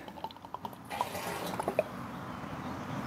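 Two-stroke oil trickles and drips into a chainsaw fuel mixing bottle at roughly 25:1, a soft liquid pour with scattered drips, close and fairly quiet, and no talk over it.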